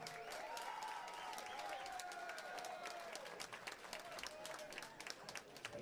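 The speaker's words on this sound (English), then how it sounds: "So once again, a big applause for both of these gentlemen." A crowd at the ARIES Fight Series 14 event, Ryan Dirksen versus Nick Golden, applauds and cheers steadily under an amplified announcer's voice, filling the arena for several seconds.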